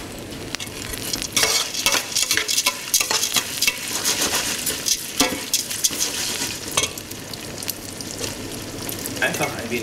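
Lentils sauté in a pan over moderate heat, giving a continuous soft sizzle broken by repeated scraping stirs and clinks of a utensil against the pan, close and alone.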